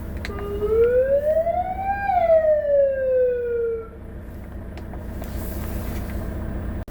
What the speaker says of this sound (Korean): 사이렌 작동 상태 확인